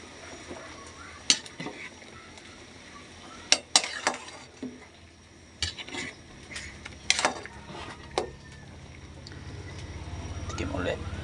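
Pork chop sinabawan stirred in a pot, scattered clinks and scrapes of a utensil against metal spaced irregularly over a quiet low simmer, with a voice speaking briefly between.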